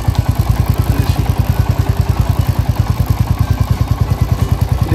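A Royal Enfield Hunter 350 motorcycle running close by, its engine thumping in a fast steady pulse with mechanical chain clatter and ticking over the rhythm, loud and continuous, with no speech.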